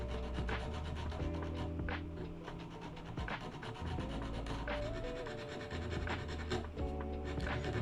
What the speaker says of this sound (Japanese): ヘッド側面の木部が浮き上がっているので紙やすりで研磨してシルエットに合うように整えていきます